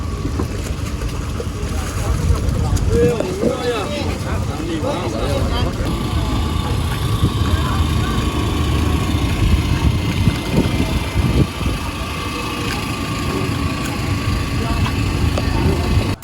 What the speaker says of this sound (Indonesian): Inilah suasana pelabuhan nelayan di dermaga yang lain.